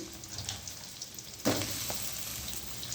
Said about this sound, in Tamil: ஒரே ஒரு வெங்காயம் கட் பண்ணி போட்டு பட்டை கிராம்பு தாளித்து